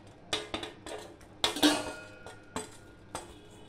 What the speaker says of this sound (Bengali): একটা থালায় নিয়ে নিচ্ছি।